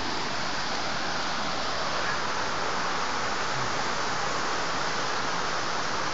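Cascade de la Frasnée, a waterfall in the Jura, roars as a steady, loud broadband rush of falling water that fills the whole stretch without a break, with no voices over it.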